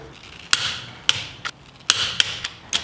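Lug nuts on a Toyota Tacoma wheel being tightened during a brake job, heard as a series of sharp metallic clicks and ratchet-like snaps in irregular bursts, close and fairly loud with no talking.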